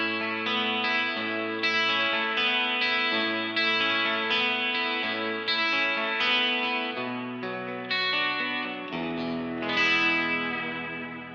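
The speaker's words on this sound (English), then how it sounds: "So yeah, that was that 12-string sound." A 12-string electric guitar rings through a wet-dry-wet reverb preset on a Line 6 Helix Stadium, strumming bright, shimmering chords with long washy reverb tails. The sustained playing is loud and continuous with no talking.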